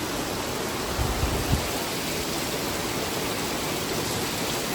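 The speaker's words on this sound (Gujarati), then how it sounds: "જોરદાર વરસાદ આવે છે" Heavy rain in Ahmedabad, a dense, steady roar of falling water with no breaks, filling the whole stretch evenly with a couple of faint low thumps early on.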